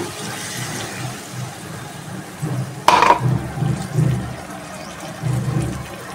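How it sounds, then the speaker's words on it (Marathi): A sudden splash of water poured into a cooking pan of pointed gourd curry, followed by softer bubbling and kitchen noise. "मी आता पाणी घालते"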